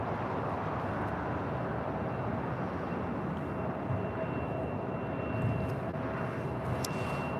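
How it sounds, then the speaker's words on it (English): An Allegiant Air Airbus A319 taking off at LAX, a continuous broad roar of jet engines heard from a distance, steady throughout with faint background hiss. "This is Allegiant Air 301 taking off to Bellingham on an A319"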